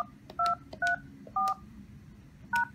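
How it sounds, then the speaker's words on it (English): Keypad tones from a Polycom VVX300 desk phone as a voicemail password is entered: four short, evenly spaced DTMF beeps, clear and close, with quiet line hiss between them and no talking. "Please enter a new password, then press pound."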